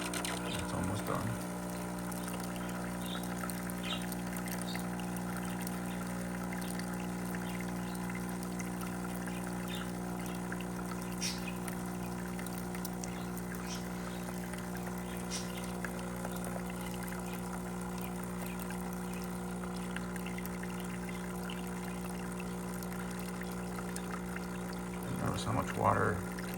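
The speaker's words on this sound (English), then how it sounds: "You can hear the changes in how it's steaming or pushing the water out" An UltimaCosa espresso machine pumps water through a descaling cycle, making a steady, faint hum and trickle that continues throughout. There are brief louder bursts at the start and end.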